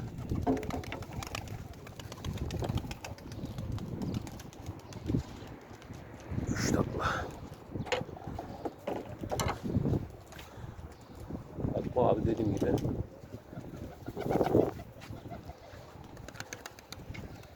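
Young pigeons coo and stir in a loft, with soft wing flaps and shuffling bursts rising now and then over a steady low murmur; a voice speaks faintly in the background.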